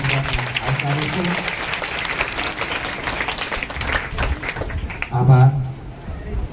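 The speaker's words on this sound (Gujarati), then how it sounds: "આપણે સૌ તાળીઓ પાડી નવા નવા બાળકોને આવકારીશું" An audience at a school admission festival and girls' education event applauds to welcome new pupils, a steady wash of clapping heard together with a speaker's voice.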